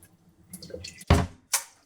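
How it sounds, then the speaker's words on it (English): Rice is rinsed with water in a rice pot, with quiet trickles and drips followed by two louder sloshing splashes of water close by. "Put some water in that rice pot, stir it, and wash it."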